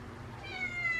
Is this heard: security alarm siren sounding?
no